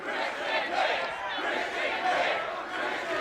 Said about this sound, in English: Crowd screaming Christian's name, trying to fire him up.